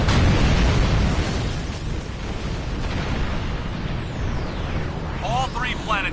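Planet Killer exploding in Star Trek Online, a loud, rumbling blast that swells and rolls on for several seconds, with a descending whistle and brief chirping effects near the end.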